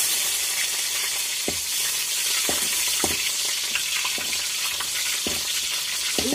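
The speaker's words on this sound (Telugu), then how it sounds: "అవి చిట్టుపట్ట అన్నాయి, ఎర్రగడ్డలు వేస్తున్నాను" Onions frying in hot oil with fenugreek seeds for a village-style egg curry give a constant loud sizzle, broken by occasional sharp pops and crackles.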